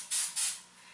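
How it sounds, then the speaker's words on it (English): Aussie hairspray from an aerosol can misted onto curly hair from a distance: two short hissing bursts close together, then quiet. "So I go ahead and just spray it from afar, you know, like not too close because I don't want it to be crunchy."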